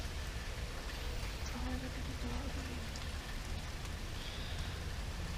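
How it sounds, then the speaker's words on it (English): Rain falling steadily in a neighborhood, heard from a car while driving, as a continuous close hiss of drops pattering on surfaces with even loudness throughout and no voices. "Out driving in the rain in the neighborhood."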